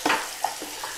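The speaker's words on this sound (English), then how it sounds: "Okay, so we got the water running." Water running from a sink faucet beside an aquarium, a brief soft splashing stream with a couple of small bursts, close by and without talk.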